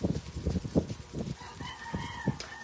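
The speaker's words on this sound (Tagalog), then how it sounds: "umaga na, nagtilaok na yung manok" Rooster crowing in the morning, a clear drawn-out call rising over scattered clucks and farmyard chatter from nearby fowl, moderately close.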